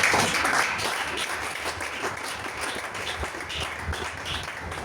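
A church congregation applauds at a religious service, steady dense clapping and cheering that fills the space at moderate loudness throughout, with no distinct voice standing out.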